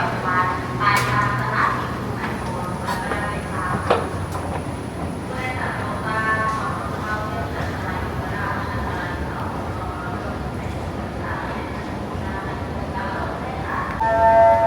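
An electric train of the Bangkok Red Line rumbles steadily into an elevated station platform with a continuous rolling drone, a high whine and a brief horn-like tone, while someone talks over it.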